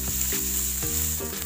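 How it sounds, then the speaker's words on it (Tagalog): Steady, loud sizzling of galunggong (round scad) fish frying in hot oil, with a few soft clinks of a utensil against the pan; close up, no voices. "Medyo pinirito-prito ko siya para mawala yung kanyang"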